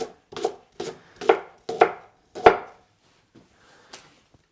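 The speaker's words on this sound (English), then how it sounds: "I have some leek left over. So I'll just cut those into rings." A knife chops leek into rings on a cutting board, six crisp evenly spaced strokes close up, then a few faint taps trailing off.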